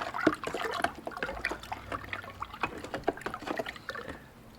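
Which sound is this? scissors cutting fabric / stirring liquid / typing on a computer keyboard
stirring liquid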